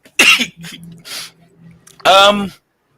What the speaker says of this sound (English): Pardon me, I had a lot of coughing to do.